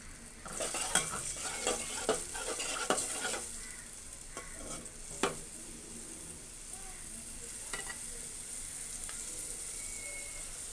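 Tengra fish being stir-fried in a pan with a little water plus turmeric, chili and coriander powder and salt, giving a steady close sizzle broken by scattered scrapes and clinks of a spoon against the pan.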